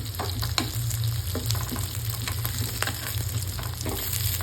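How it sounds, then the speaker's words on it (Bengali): Two fish sizzle in hot oil in a pan, a constant crackle punctuated by sharper pops and occasional utensil scrapes, close and moderately loud. "দুইটা মাছই সুন্দরভাবে ভাজা হয়েছে"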